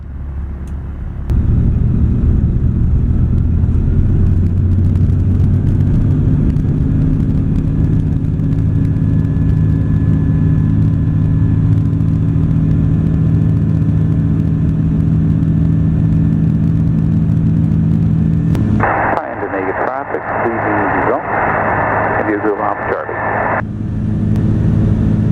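A light aircraft engine roars steadily during the takeoff roll on runway 27, loud and continuous inside the cabin, then shifts abruptly near the end as radio chatter cuts in.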